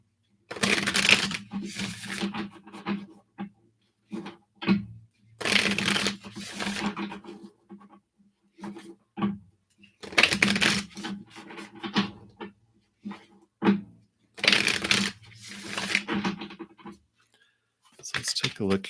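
A deck of oracle cards is shuffled in repeated bursts of riffling and flicking, close and crisp, with short pauses between rounds and no talk.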